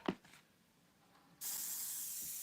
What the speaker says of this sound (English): I'm spraying into the brown area, into that.